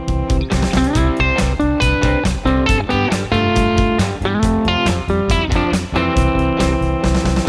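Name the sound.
guitar sixes scale played along with jam track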